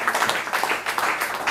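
A church congregation claps in quick, uneven bursts. The clapping is loud and close and fills the short moment.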